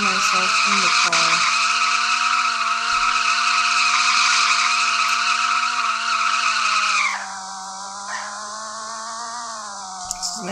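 A video game car skids and revs, a loud sustained engine whine with tire squeal that drops to a quieter steady drone partway through.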